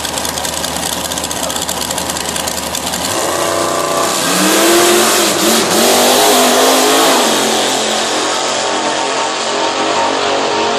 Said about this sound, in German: sie kommen nochmal zurück und wollen natürlich mit den heißen Reifen auch einen Start vollführen